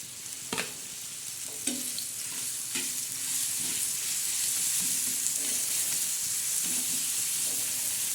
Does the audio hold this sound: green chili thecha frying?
yes